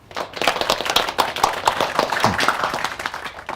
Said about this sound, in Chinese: 老大第一次给咱们开会， 大家给他鼓鼓掌。